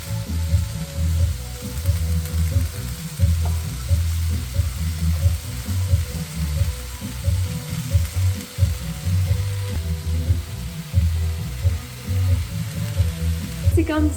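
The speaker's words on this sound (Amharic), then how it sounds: "ስለዚህ መጥበሻውን በማጋል ውሃም ሳንጨምር ዘይትም ሳንጨምር እንደምትመለከቱት በደረቁ ውሃውን መጠጥ እስከሚያደርግልን እንደዚህ መጥበስ።" Beans and rice dry-fried in a hot pan with no water or oil give a steady, close sizzling hiss that runs unbroken throughout.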